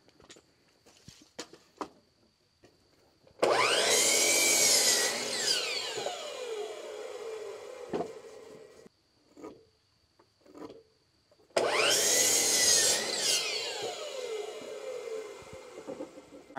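A saw cuts wood for the cross supports of a beehive stand in two loud, sustained bursts separated by a few seconds of quiet handling and light knocks.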